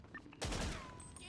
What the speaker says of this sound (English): The locals are shooting.